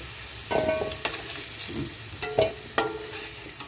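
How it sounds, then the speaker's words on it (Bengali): Potato and pumpkin pieces fry in oil with a low, steady sizzle, interrupted by a few sharp scrapes and clicks of a spatula stirring in the pan. "তো এইটা একটু ভাজা হোক, আর একটু ভাজা হবে"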